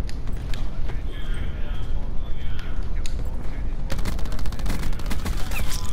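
Gunfire in the video game Black Ops 4 crackles in rapid bursts, turning into a dense, loud stream of shots toward the end, with steady game noise underneath.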